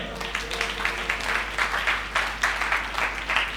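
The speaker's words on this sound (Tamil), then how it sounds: "கைத்தட்டுங்களேன்." A church congregation at a Tamil Sunday service claps hands together, a steady patter of many clappers in loose rhythm at moderate level with a low hum beneath.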